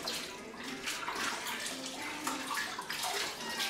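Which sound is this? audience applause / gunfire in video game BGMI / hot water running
hot water running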